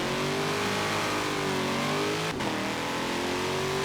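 A stock 2020 Chevrolet C8 Corvette in Forza Horizon 4 launches off the line, its engine roaring loud and close with a steady rising pitch, a brief gear-change dip midway, then climbing again.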